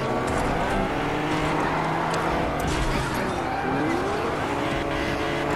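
Video game cars race and skid, with a steady roaring engine and tire squeals sweeping through a busy, loud mix.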